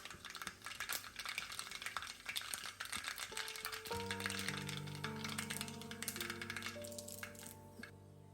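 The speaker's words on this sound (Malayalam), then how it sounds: "ചട്ടി ചൂടായിട്ടുണ്ട്. നമുക്ക് കടുകിടാം." Mustard seeds crackle and spatter in hot coconut oil in a pan, a dense rapid popping that fills the clip, with a steady tonal hum emerging in the second half.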